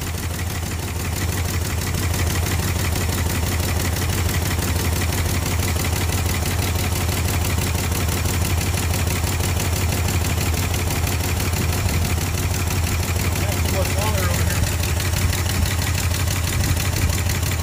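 A 1974 Ford F250 4x4 high boy truck engine, long idle after years of sitting, runs as a steady, loud, close idle with a constant low rumble and even mechanical chatter throughout.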